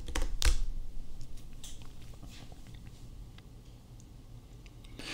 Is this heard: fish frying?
no